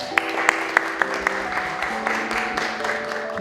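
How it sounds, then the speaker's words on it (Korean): An audience at a military basic-training ceremony claps to welcome a family, with a few sharp accented claps at first that settle into a steady wash of applause under a held musical tone. "나오실 때 큰 박수 부탁드리겠습니다."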